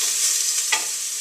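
Szechuan pepper hitting a tablespoon of very hot oil in a pan, a steady bright sizzle with a brief sharper crackle burst midway, no voices.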